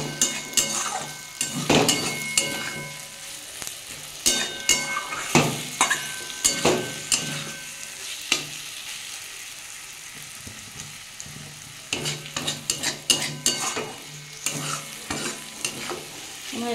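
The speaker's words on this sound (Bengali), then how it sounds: "একটু ভালো করে নাড়াচাড়া করে ভেজে নেব।" Eggplant with neem leaves is stirred and fried in a pan, with repeated scraping strokes of a spatula over a soft sizzle, coming in bursts separated by quieter frying.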